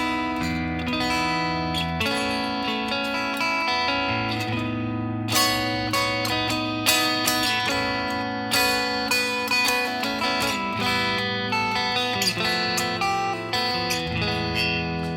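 Ringing guitar chords strummed at a relaxed pace, open strings sustaining between strokes, played up close without any voice.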